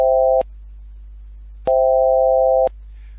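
A clean, filtered tone, a Fourier-processed function with its noise stripped out, sounds as two loud, steady beeps, one short and one about a second long, each with a sharp start and cutoff, over a quiet low hum.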